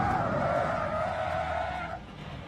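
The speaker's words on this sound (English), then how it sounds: "He got me with a massive lock-up." Tyres of a Caterham race car screech loudly in a brake lock-up at Brands Hatch, a sustained squeal over engine noise that fades after about two seconds.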